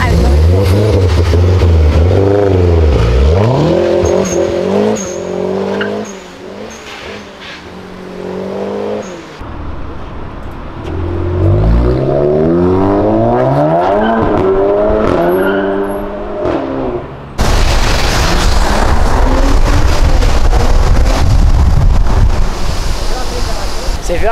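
A turbocharged Mazda Miata fitted with a bodykit revs hard while driving, its engine note climbing and falling in repeated sweeps under heavy wind buffeting, with people talking in the car.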